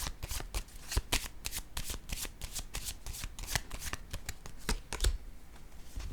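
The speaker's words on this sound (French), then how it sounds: "Je vais déposer une autre carte." Tarot cards being shuffled and laid down: a quick series of crisp riffling and flicking snaps, fairly close and quiet, with no talking.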